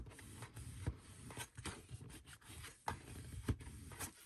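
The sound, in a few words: burnishing a folded paper craft edge flat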